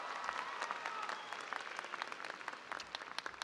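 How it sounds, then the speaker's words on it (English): A high school graduation audience applauds a student's speech, a dense patter of clapping from a large crowd that swells and then thins toward the end. "Let's give Gabriella another round of applause on her speech as well."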